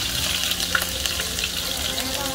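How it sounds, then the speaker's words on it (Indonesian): Chicken liver frying in a pan with shallots and garlic, a steady close sizzle and crackle throughout, with faint stirring and brief scraping. "ini masak hati ayamnya"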